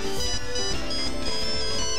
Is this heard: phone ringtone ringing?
yes